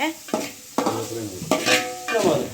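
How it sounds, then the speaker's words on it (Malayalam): Shallots, onion, green chili and curry leaves sautéed in a pan over a traditional stove, with stirring strokes and sizzling that come in several loud, close bursts. "ചെറിയ ഉള്ളി, ചുവന്നുള്ളി, പച്ചമുളക് ഒക്കെ ഇട്ടിട്ട് കറിവേപ്പില ഇട്ടിട്ട് വഴറ്റിയെടുക്കുന്നുണ്ട്"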